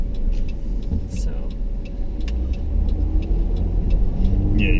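Inside a moving car, a steady low engine and road rumble fills the cabin, with faint rhythmic ticks on top and voices talking over it.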